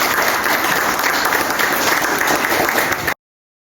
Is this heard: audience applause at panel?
yes